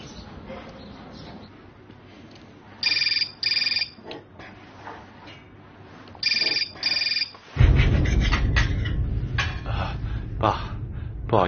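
A mobile phone's electronic ringtone rings in short repeated bursts, two pairs of trills spaced a few seconds apart, followed by a voice and room noise as the call is picked up.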